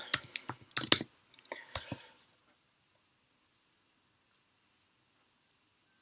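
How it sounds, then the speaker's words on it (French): Someone types a password on a computer keyboard: a quick cluster of close key clicks during the first two seconds, then near silence apart from one faint click later. "je tape le mot de passe"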